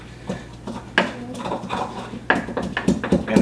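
Fried plantains with a pinch of salt being smashed down for mofongo, giving repeated knocking thuds and clatters of a masher against a bowl, irregular and close, with small utensil clinks between hits.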